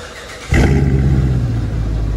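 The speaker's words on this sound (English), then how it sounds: "first remote start at the new muffler." A 2019 Dodge Charger R/T with Carven TR mufflers, resonator delete and factory X-pipe fires up by remote start: a quiet lead-in, then a sudden loud crank into a deep, steady, close idle rumble.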